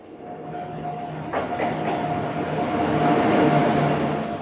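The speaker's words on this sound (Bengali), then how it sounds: "ট্রেনটা ছিল উত্তরবঙ্গ এক্সপ্রেস, শিয়ালদা থেকে বামনহাটগামী সেই পরিচিত ট্রেন" A Sealdah–Bamanhat Uttar Banga Express passenger train running at night, heard from on board as a steady, loud rumble with rail noise and a faint tonal hum, swelling slightly toward the end.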